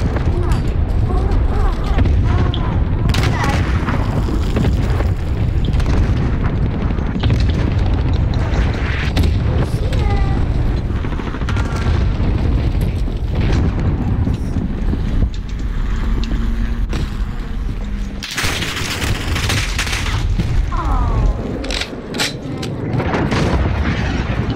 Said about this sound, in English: Enemy cluster strike incoming. Take cover.